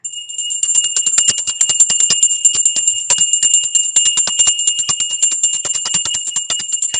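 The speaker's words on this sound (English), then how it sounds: "that is the bell to begin." A brass hand bell from India, shaken to begin a session, rings loud and close in a rapid, continuous jangle of bright metallic strikes for several seconds with no voices.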